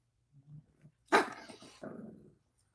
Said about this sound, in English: I'm brushing my dog.